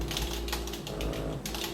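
Someone types steadily on a computer keyboard resting in their lap, with quick, close clattering keystrokes over a low background hum and no voices.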